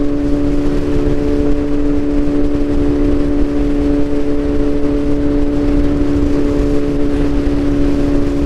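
A 2022 Kawasaki motorcycle cruises along the Skyway below 100 km/h, its engine a loud, steady drone with a sustained hum, wind rush underneath, no talking.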